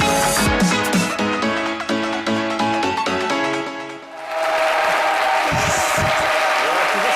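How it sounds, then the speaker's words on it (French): A television studio audience bursts into loud, dense applause and cheering that rises and holds steady, after a stretch of talk and music from the presenters. "Merci beaucoup, on applaudit très fort."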